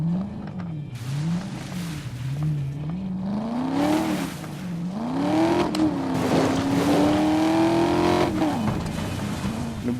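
A Maserati GT MC Stradale sports car engine idling and then revving, close and loud, its pitch rising and falling in repeated swells with throaty harmonics building on each blip of the throttle.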